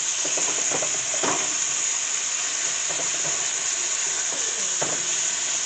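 Chicken for fajitas sizzles in a pan over medium-high heat, giving a steady, close frying hiss, with occasional scrapes and stirring clatters from a utensil.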